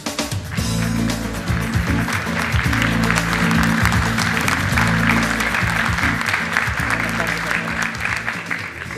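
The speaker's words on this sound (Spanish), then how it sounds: "Un aplauso para él." Audience at a science talk at the Congreso Futuro 2018 conference applauding continuously, a loud, dense burst of clapping that fills the whole stretch and stays steady throughout.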